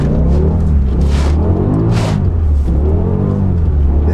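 Car engine on and off the throttle while driving, a loud, steady low drone with rising and falling revs and a couple of brief hissing bursts.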